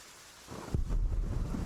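Rain and a low thunder rumble in the medieval video game The Pillars of the Earth, a steady wash of rain that swells after a quiet start, with a deep rolling boom about midway.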